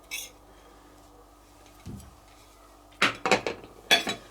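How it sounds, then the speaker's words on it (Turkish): A spoon mixes salty keş cheese into a börek filling in a bowl, with faint early scraping, one dull knock, then a quick run of close metallic clinks and scrapes. "Bunu şimdi güzelce iç harcımıza yedirelim"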